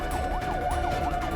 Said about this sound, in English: You're driving lights and sirens in really busy traffic.